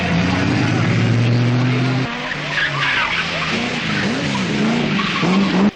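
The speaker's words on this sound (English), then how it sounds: "Tony gives the powerful British sports car its head as he breaks away from the leading bunch to dominate the rally right from the start" A powerful British sports car races on a 1978 Manx Rally stage, its engine note rising and dropping through gear changes with tyre noise, recorded nearby with a narrator talking over it.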